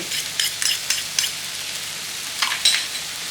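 Liver stir-fried in a pan with curry powder and oyster sauce: a close, bright sizzle broken by repeated scraping strokes of a spatula in quick irregular bursts, with no talking.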